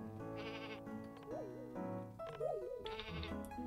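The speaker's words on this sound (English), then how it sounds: "Shear the sheep." A sheep in the farming game Staxel bleats while being sheared, several wavering bleats clearly heard over steady background game music.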